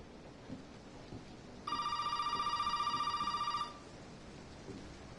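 An old-style telephone rings in the horror game Resident Evil 7, a rapid metallic bell trill lasting about two seconds, loud and alone over soft rain-like background hiss.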